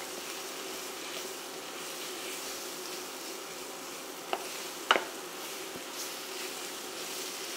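Flour and tomato puree are stirred in a pot for boeuf bourguignon, a soft continuous sizzle with a few brief scrapes of the spoon, fairly quiet and without talk.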